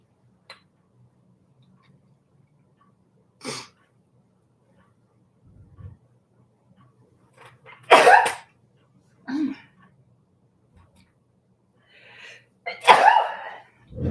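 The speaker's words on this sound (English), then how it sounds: "Sneezing, sniffling." Several sharp sneezes burst out alone against near silence, spaced a few seconds apart, with a softer sniff or cough between them.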